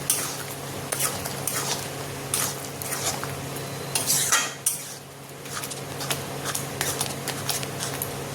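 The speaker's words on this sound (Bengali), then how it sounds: "মশলার সাথে খুব ভালোভাবে রাজমাটা মিলিয়ে নেব" Boiled rajma (kidney beans) stirred with spices and green chilli in a pan: a spoon scrapes and clinks against the metal in an irregular rhythm, with soft squishing of the thick mixture, close and moderately loud, no talking.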